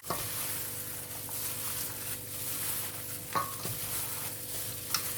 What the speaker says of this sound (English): And now I'm adding all my green seasoning.